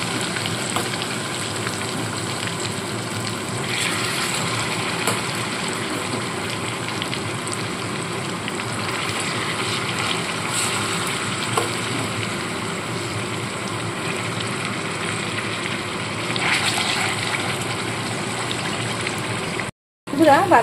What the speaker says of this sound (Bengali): ঠিক একইভাবে বাদবাকি চিকেনগুলোকেও ফ্রাই করে নেব।